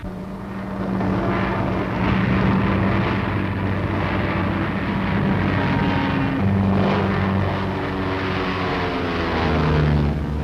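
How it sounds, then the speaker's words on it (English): Pre-war fighter aircraft pulling a half roll off the top of a loop, its propeller engine droning loud and steady throughout with a shifting pitch as it manoeuvres. "Now the difficult half roll off the top of a loop."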